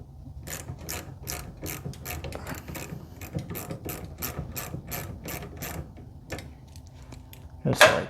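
A hand ratchet turns a 7/16 socket on a tail light of a Dodge D150 truck, giving a quick, steady run of crisp clicks close up, followed by a louder clunk at the end.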